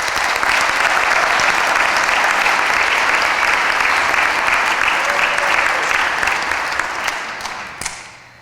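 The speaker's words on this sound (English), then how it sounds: "can we please get a round of applause for all of today's amazing graduates?" A large audience at a 2023 La Follette masters candidate graduation ceremony breaks into loud, sustained applause for the graduates, with dense clapping that tapers off near the end.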